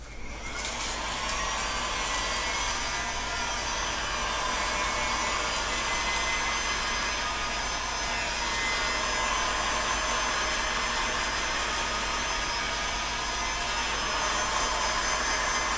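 Heat gun blowing a steady, loud airy roar while warming PVC bow limbs for an asymmetric Scythian bow, continuous and close with no pauses.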